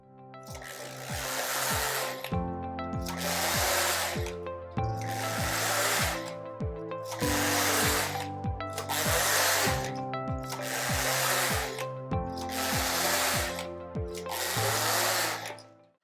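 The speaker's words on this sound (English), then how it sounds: "This Passap sounds way different from my Brother machines, from my Singer machines, from my Knittax machine" A Passap Duomatic 80 knitting machine knits rows of a spencer. Each carriage pass makes a loud whirring rasp with a ticking, mechanical rhythm, and the passes repeat steadily about every two seconds.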